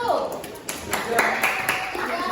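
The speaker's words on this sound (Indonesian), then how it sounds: "beri tepuk tangan untuk kelompok 1" A group of students in a school classroom claps in scattered, uneven applause while voices chatter over it.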